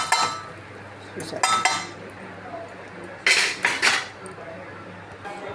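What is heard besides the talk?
stirring tempering into mushroom curry in pan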